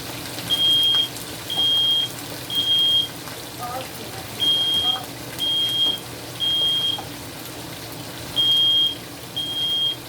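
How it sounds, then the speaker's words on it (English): A sensitive smoke alarm in a kitchen where herring is being fried gives loud, high-pitched beeps in groups of three, repeating steadily over a background of sizzling oil. "That's my fire alarm going off"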